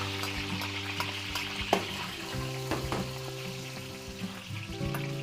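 Chopped ginger frying in a pan for teriyaki sauce, a close crackling sizzle with spatula scrapes and clinks against the pan, steady over a low background hum.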